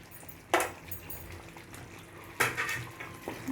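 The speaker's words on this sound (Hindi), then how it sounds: "अभी हम इसमें हमारे तले हुए कोफ्ते इस ग्रेवी में डाल देंगे।" Fried chicken koftas and fried potatoes dropped into a curry gravy in a pan, two sharp clattering splashes about two seconds apart, then a smaller one, over a faint kitchen background with no speech.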